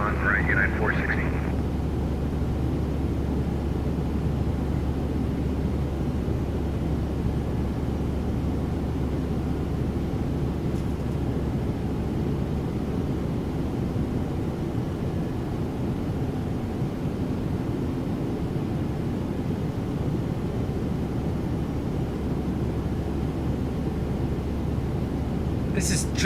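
A simulated Boeing 737 in X-Plane 12 sits on the runway at takeoff, its jet engines giving a steady, loud, broad roar that barely changes over the whole stretch, with a short higher whine at the very start.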